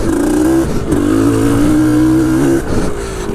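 Yamaha DT-180 dirt bike on a trail, its two-stroke engine revving hard in a sustained close, loud whine, then dropping briefly and picking up again near the end.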